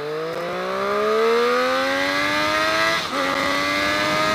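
A motorbike engine revs up and accelerates close by, its pitch climbing steadily, dipping at a gear change and then pulling again, loud and with no talk.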